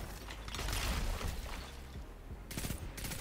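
Pulse rifle bursts in Destiny 2 PvP, rapid mechanical clattering shots in quick groups, with a short pause and then a final sharp pair of bursts near the end.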